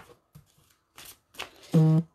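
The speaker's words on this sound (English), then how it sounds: "I'm just going to give it another shuffle" Tarot cards being shuffled in a few short papery bursts of riffling, close and fairly quiet, ending in a louder, sustained flutter as the deck is worked.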